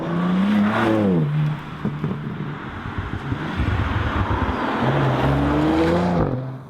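Rear-wheel-drive BMW M4 accelerating hard out of a corner, a loud close engine climbing in pitch through the gears with a brief dip for a shift and heavy wind noise throughout.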